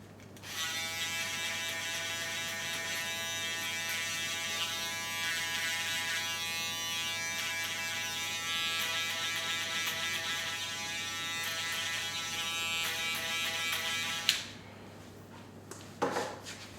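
Electric hair trimmers cut a low skin fade with a close, steady buzzing drone for about fourteen seconds, then switch off, followed by a few light handling clicks.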